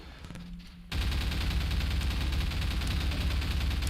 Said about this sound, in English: So, switch to the SMG for this.